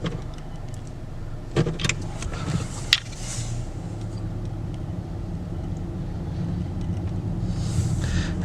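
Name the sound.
2019 Honda Accord EX driving at night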